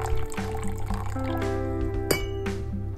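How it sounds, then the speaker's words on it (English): Brewed coffee pours steadily into milk in a container with a rising gurgle, a faint clink partway through, over a low background hum. "pour in your brewed coffee"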